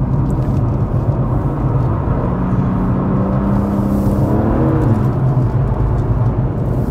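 A BMW M3 on a race track, its engine a steady loud roar with a pitch that sweeps down and back up mid-run as the car brakes and drives on, constant and close throughout.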